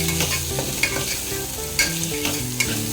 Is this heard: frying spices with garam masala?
yes